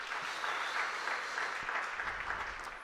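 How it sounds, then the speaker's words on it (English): Church congregation clapping at a Good Friday service, a steady dense wash of applause that holds evenly throughout and tapers slightly at the end, with no talk over it. "let us give God a clap offering."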